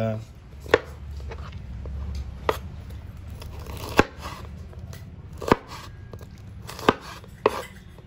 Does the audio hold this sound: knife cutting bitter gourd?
yes